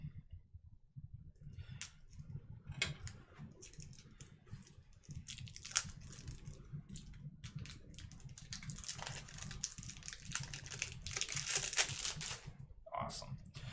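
A board game box is opened by hand and its cards and packaging are handled: crinkling plastic, papery rustles and light tapping in irregular bursts, growing busier toward the end, with a low voice murmuring underneath.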